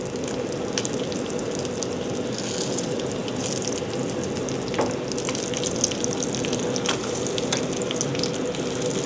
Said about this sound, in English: So now we have these pierogies cooking in all that bacon goodness with the fillets